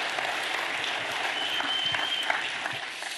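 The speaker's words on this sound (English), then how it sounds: "Do you want to give a round of applause to Pastor Byron," A crowd applauding a panel at a conference session, steady, full clapping from many people in a large room, even and continuous throughout without speech.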